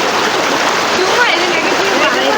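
A waterfall and fast-flowing stream at Nellettil (Thonippara) give off a dense, loud, unbroken rush of water heard up close, with voices talking over it.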